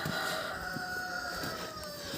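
Roosters on a rural Ukrainian farm under a cloudy, drizzly sky, clucking with a faint crow-like call, steady and moderately close with no talk.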